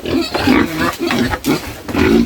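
A pig on a farm grunts and squeals in a rapid series of loud, close, rough calls with short breaks between them.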